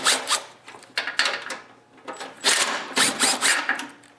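A cordless impact driver removes bolts from a snowblower auger gearbox in short, rattling hammering bursts separated by brief pauses, fairly close and clear.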